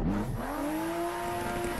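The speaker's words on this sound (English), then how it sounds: "Just listen to that thing. All the crackles and pops of a BMW engine." A BMW-engined drift car in the Assetto Corsa racing game revs with a steady, rising engine tone and a faint crackle underneath, loud and close for a couple of seconds.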